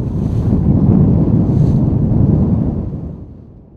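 Steady, loud wind buffets the microphone out on open water during Asia's sailing regatta, roaring continuously for about three seconds before easing off toward the end, with no voices.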